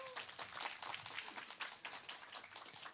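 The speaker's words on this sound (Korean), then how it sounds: "박수 한 번만 더 부탁드리겠습니다" Audience applause after a traditional Korean daegeum bamboo flute performance at a Confucian school venue, a steady patter of clapping hands lasting a few seconds, moderately close and fairly quiet, with no talk.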